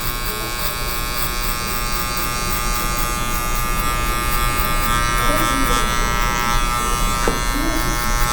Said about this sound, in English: you'll hear the clipper doing the work and cutting the hair